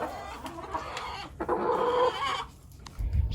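Hens cluck softly and rather close as they scratch and dig through hay in their coop, with short rustling bursts between the calls. A low thump lands near the end.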